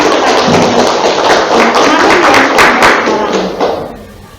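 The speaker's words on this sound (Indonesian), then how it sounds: "Tepuk tangan untuk panitia yang sudah mempersiapkan" An audience applauds the student council (OSIS) committee at a high school campaign event for council chair candidates, producing a loud, dense, sustained roar of many hands that fades out at the end.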